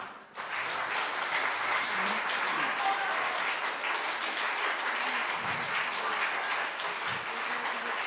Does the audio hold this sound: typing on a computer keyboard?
no